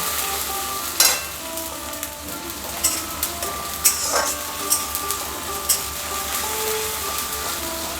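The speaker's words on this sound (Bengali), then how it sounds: "মশলাটা আমি এর মধ্যে দিয়ে দেবো এবার আমি ভালো করে নাড়ব" Spice paste with cumin sizzles steadily in a pan for chana dal while a spoon stirs it, giving a constant close fry hiss broken by occasional light scrapes and clinks.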